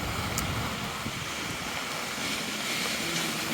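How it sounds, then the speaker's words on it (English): Strong wind blusters downtown during heavy rain, a dense, rushing roar with microphone buffeting that stays loud and constant throughout. "I know the wind's blowing really hard right here."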